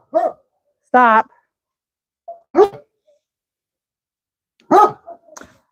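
A blind dog barks in short, separate outbursts at close range, including one long wailing howl, with a person telling it to stop between the barks.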